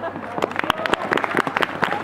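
A group of people clapping hands together during a dance class, a quick run of sharp, scattered claps that are close and fairly loud, with voices talking and calling over them.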